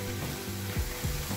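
Ivy gourd pieces fry in a pan, giving a soft, steady sizzle with a couple of faint scraping stirs. The sound is quiet and close, with no talk.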